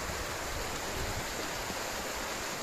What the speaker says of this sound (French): Ces cascades là.